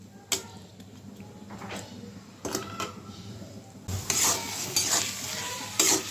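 Carp fish roe stir-fried in a pan, a soft sizzle beneath scraping and stirring, with sharper utensil clinks now and then and the frying growing louder in the later part.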